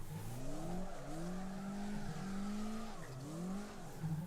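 A drift car in CarX Drift Racing Online spins donuts, its engine droning in a steady rising-and-falling whine while the tires skid continuously. The sound is fairly quiet and carries no talking.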